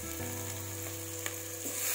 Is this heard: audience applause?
no